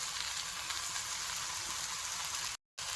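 Pumpkin pieces with turmeric and salt sauté in a pan in a rustic village kitchen, giving a steady close sizzle and frying hiss with no talk, cut by a brief silence near the end.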